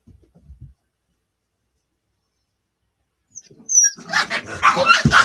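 Puppies break into a burst of high, yappy barks after a near-silent pause, several overlapping sharp yips close by, preceded by a brief low murmur.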